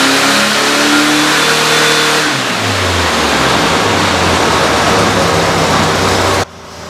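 A Volkswagen engine roars through a full-throttle dynamometer pull while testing a header, loud and close, its pitch climbing steadily as revs rise before cutting off sharply near the end.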